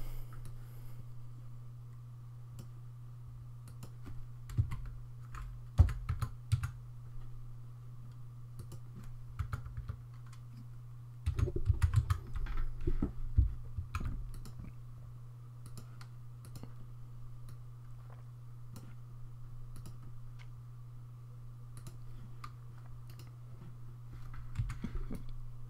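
A website URL is typed on a computer keyboard, scattered close key clicks with a brief quick burst in the middle, over a steady low hum.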